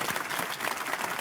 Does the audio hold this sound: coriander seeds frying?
no